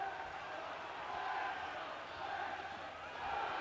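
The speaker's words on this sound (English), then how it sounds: "That's brought the crowd back to life." Football crowd at a Wrexham match in the 1997/98 season, cheering and roaring after a goalkeeper's save, a steady broad swell of massed voices holding at a constant level throughout.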